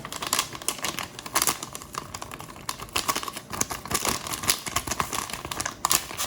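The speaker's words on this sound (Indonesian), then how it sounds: "Ini kita tuang agar-agar. Ini 2 bungkus ya." Agar-agar powder poured from two packets into a pot on an unlit stove while making chocolate pudding, a steady dry rustling and crinkling of packet paper with soft patter, close and moderately loud, no talking.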